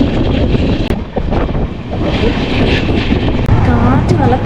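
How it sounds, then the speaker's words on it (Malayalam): Cool wind rushes steadily past an open window of the Tatanagar Express running from Ernakulam to Katpadi near Palakkad, a loud broadband roar filling the whole clip with a voice speaking over it. "കാറ്റ്, നല്ല തണുത്ത കാറ്റ്"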